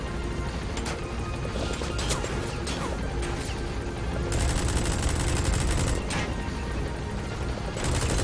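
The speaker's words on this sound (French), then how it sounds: "Pourquoi tu tires la minigun sur les gens?" Minigun fire at people in the video game Metal Gear Solid 5, a dense continuous rattle of rapid shots with crashing impacts throughout, loud and without talk.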